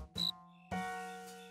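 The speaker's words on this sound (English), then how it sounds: "if we don't catch that cricket" A cartoon cricket chirps twice, two bright ringing tonal bursts, the second longer and slowly fading, close and clear against silence.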